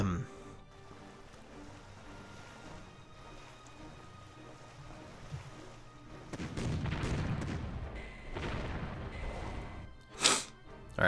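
Bombing explosions in the strategy war game Panzer Corps during Operation Sealion, a rumbling cluster of booms building midway and ending in a sharp blast, with a voice heard over quieter moments.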